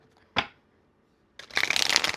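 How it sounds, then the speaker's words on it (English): A tarot deck of very hard cardstock being handled: one quick snap of cards, a short pause, then a close, crisp burst of riffle shuffling. "God, I'd love to shuffle this deck better,"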